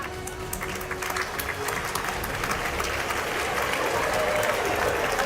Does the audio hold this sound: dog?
no